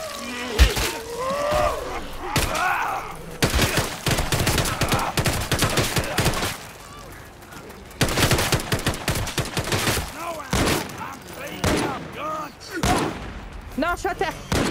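Gunfire in the zombie shooter No More Room in Hell 2, with several loud bursts and rapid volleys breaking up a stretch of game noise while players talk and shout over it.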